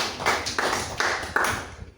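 Classroom students clap briefly in a few rhythmic bursts, close and moderately loud, ending quickly.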